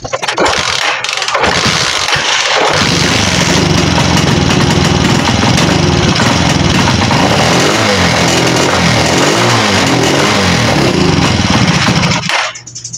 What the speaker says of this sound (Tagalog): So, ganun pa rin mga padreng, palyado pa rin.